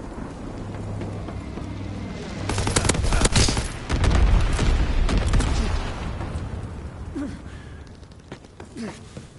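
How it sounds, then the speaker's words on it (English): Incendiary bombs burst in a video game war scene, a rapid cluster of loud blasts and crackling impacts swelling midway, then fading into lower rumble with scattered pops. "Incendiary bombs incoming."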